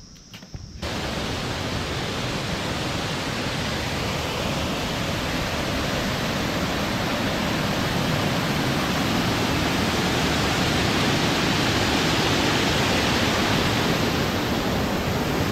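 Water pouring from a small waterfall at Sittong in Darjeeling, a steady loud broadband rush that runs unbroken and close for the whole stretch, with no voices over it.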